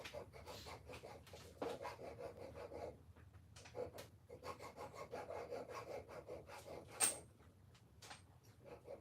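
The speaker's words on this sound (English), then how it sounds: "We'll just file the thread down a bit." A hand file rasping across a bolt thread on a mower deck, close, repeated scraping strokes in an uneven rhythm with brief pauses and a sharp metallic tick near the end.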